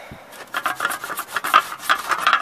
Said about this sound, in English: this is a sandpaper sponge